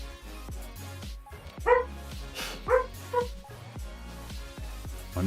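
A dreaming dog gives soft whimpers and a handful of quick yips, close by and fairly quiet, the sharper yelps spaced irregularly through the stretch.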